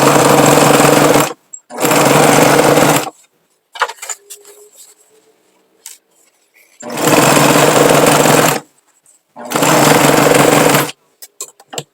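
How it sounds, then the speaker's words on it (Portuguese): A sewing machine stitches a patchwork fabric rug in four loud, steady bursts, with pauses of faint handling and fabric rustle between runs as the work is turned. "Viro e continuo a costura"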